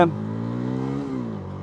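A CFMoto CLC 250 motorcycle engine revving up and holding a steady, harmonic drone, close and loud, then dipping slightly in pitch near the end.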